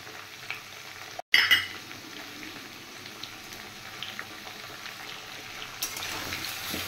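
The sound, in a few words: potato and shola kochu frying with salt and turmeric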